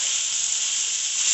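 Carrot and small cabbage florets frying in a pan on high flame, a steady bright hissing sizzle holding even and close for the whole stretch, with no voices.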